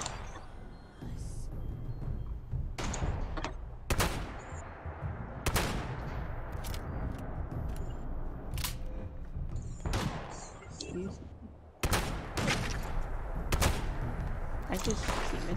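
Shotgun blasts in the video game Fallout 76, a string of loud, sharp booms at irregular intervals over steady game background noise, with a player talking between the shots.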